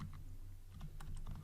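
Kotlin code being typed on a computer keyboard, a quick run of soft, close key clicks with a few sharper taps, alone without talk.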